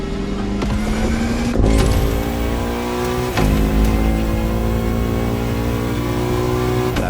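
A Bugatti La Voiture Noire in a racing game revs hard, its engine note climbing in pitch with sharp gear-shift breaks, loud and close, with no voices over it.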